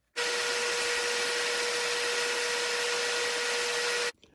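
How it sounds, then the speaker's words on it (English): A power drill boring a finger hole through a wooden table saw insert, one continuous steady whine of about four seconds that starts and stops abruptly, loud and close. "we're going to drill a finger hole now"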